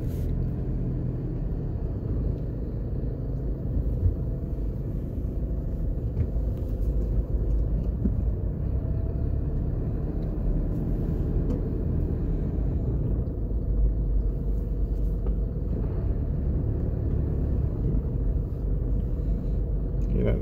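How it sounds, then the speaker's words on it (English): A car driving along a campus road at a university of technology in Jamaica gives a steady, loud low rumble of engine and road noise heard from inside, with faint voices at times. "But we're going to drive this way."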